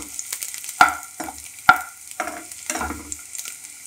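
Chopped garlic fries in a pan for mushroom pepper fry, with a light sizzle under a few sharp scrapes and knocks of a spoon stirring against the pan, close and intermittent.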